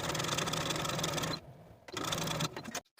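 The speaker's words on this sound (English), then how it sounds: "baste the bottom edges of your front waistband pieces together with a 1/4 inch seam allowance from one end to the other" A sewing machine runs at speed basting the bottom edges of front waistband pieces for a jumpsuit, a dense rapid stitching whir that stops briefly, resumes, then cuts off.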